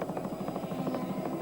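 A TV camera helicopter flying over Mount Panorama during the 1983 Bathurst 1000 race, its rotor giving a steady rapid chopping thump, loud and close for the whole moment.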